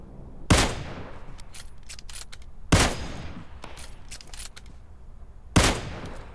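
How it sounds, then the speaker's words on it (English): Three loud, sharp bursts of automatic gunfire from the mobile battle-royale game PUBG Mobile, spaced a few seconds apart, each followed by a short decaying tail and faint scattered distant shots in between. "So we got automatic fire up there"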